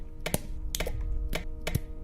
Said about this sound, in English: If I go over to an object, like a jar, it will play different sounds.